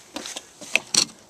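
Fuel door of a 2012 Chevrolet Malibu LTZ being opened and handled, producing a quick series of small, close plastic clicks and taps, ending in a slightly louder snap.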